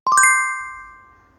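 A bright notification bell icon chime rings out as four rapid rising dings, loud and close, then leaves a clean ringing tone that slowly fades.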